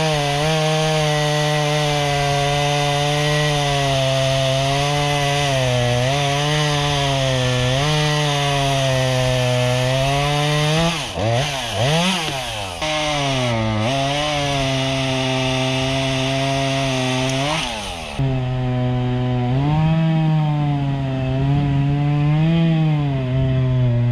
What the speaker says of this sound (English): I'm just going to take a chainsaw and make these big trees in smaller pieces.